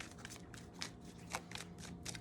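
Tarot cards being shuffled by hand, a run of soft crisp riffling bursts in an uneven rhythm, close and quiet, with no talking.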